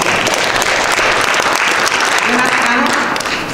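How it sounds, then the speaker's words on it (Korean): An audience at a completion ceremony for a Korean elders' graduate school applauds loudly, with close, dense clapping that continues steadily and without a break. "특별히 뜨겁게 박수로 축하해 주시기 바랍니다"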